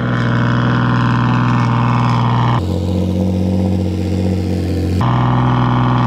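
A 600HP rear-mount turbo Nissan 350Z with fabricated intake, twin wastegates and added resonators idles loudly nearby, a steady droning engine and exhaust tone whose pitch dips briefly midway before returning.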